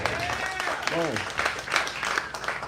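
An audience at a live poetry event claps briefly at moderate volume, with a speaking voice over it.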